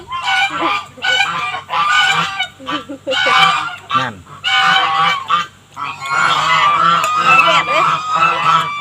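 Ducks and chickens call loudly nearby in repeated honking, squawking bursts, with a brief Thai voice in the mix.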